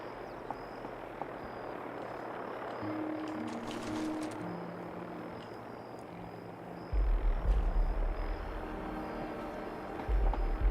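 Vertibird helicopters in the Fallout 76 video game drone from a distance with a low, steady rotor rumble that grows louder and heavier toward the end.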